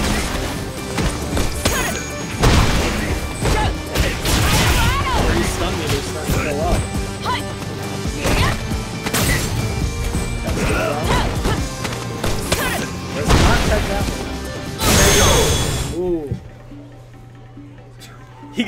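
Heavy punches, kicks and crashing impact effects from a Street Fighter tournament match with Rashid against Cammy, dense and loud, under continuous excited commentary before the sound drops away near the end.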